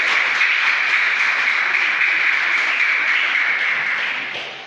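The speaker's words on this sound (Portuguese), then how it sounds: "Você pode aplaudir o Senhor Jesus Cristo?" Church congregation applauding, a dense, loud, continuous crackle of many clapping hands that holds evenly and tapers off near the end.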